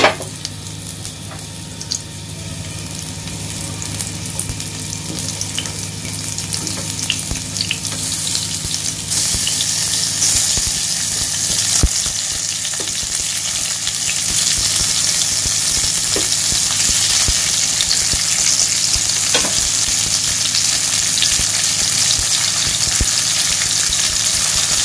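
Onions fry in oil in a pan with a steady, dense sizzle that carries on without a break, loud and close, and occasional stirring clatter breaks through.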